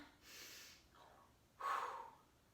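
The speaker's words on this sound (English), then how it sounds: "breath in, and breath out" Someone breathes audibly in and then out in a piston breathing exercise for rehab training, with a short airy inhale, a faint pause, and a louder forceful exhale.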